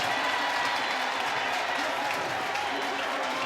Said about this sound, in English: Crowd here at Scott Stadium reacting to the Jumbotron.